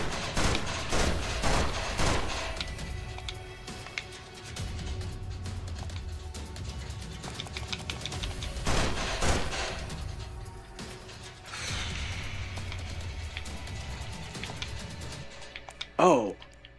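Repeated bursts of gunfire from the survival-horror video game Wicked Seed, loud and rapid, mixed with keyboard clicks and someone talking between the volleys.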